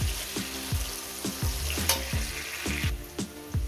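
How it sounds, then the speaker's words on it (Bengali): Steady sizzling of potatoes frying in a pan, with repeated scraping strokes of a spatula stirring at a regular rhythm, close by. "এটাকে আমি পাঁচ মিনিট চার পাঁচ মিনিট করে ভেজে নেব"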